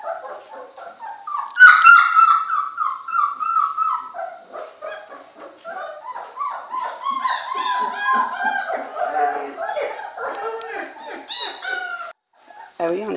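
Puppies about 25 days old, exploring a living room, give a steady stream of high, wavering whimpers and yelps close by, with a few short bark-like squeaks, continuing over most of the span before a brief gap.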